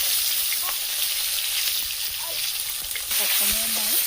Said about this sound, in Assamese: প্ৰথমে মই সৰিয়হ শাকত দিবৰ কাৰণে ডাঙৰ মাছ কেইপিচ ভাজি লৈছোঁ।